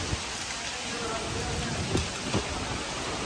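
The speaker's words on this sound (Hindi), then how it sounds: "आंधी तूफान आ गया" A sudden storm with strong wind and rain makes a steady, dense roar of rushing noise, broken by a couple of brief louder gusts or knocks near the middle and end.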